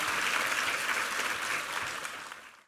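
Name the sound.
applause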